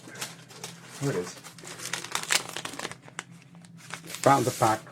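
A pack of Tomo River paper is handled and crinkled, giving close, irregular bursts of rustling and crackling that come and go, with a louder flurry near the end; a voice talks over part of it.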